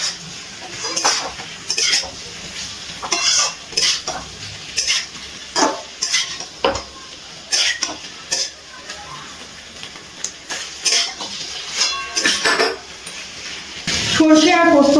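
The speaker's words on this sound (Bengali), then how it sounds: "সর্ষে পোস্ত দেওয়ার পর আবার একটু ভালো করে কষিয়ে নিচ্ছি।" A utensil scrapes and clatters in a pan as shukto with mustard and poppy seed paste fries. Sharp stirring strokes repeat every second or so over a low sizzle.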